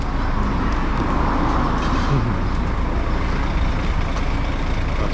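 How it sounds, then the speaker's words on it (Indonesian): A bus bound for Vietnam from Cambodia runs with a steady, loud engine rumble and broad traffic noise, continuous throughout with no clear talk. "ini busnya yang pergi ke Vietnam, bro."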